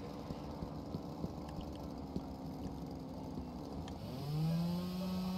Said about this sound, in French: Alors, tronçonneuse.